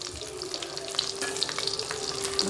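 Green chillies and peeled garlic fry in hot oil with urad dal for a mint-onion chutney, giving a continuous crackling sizzle with small pops and light stirring, close up and with no speech.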